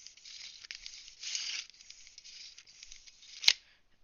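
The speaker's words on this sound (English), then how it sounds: "that was the tape measure I've been using" A tape measure pulled out and handled up close, a steady rasping slide with a louder swell midway, then one sharp snap near the end before it goes quiet.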